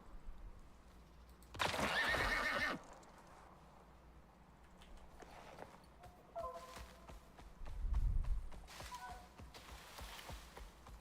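A horse in the video game Icarus lets out a sharp whinny, followed by scattered hoof clops and snorts, with a low thud and another faint neigh later, fairly quiet overall.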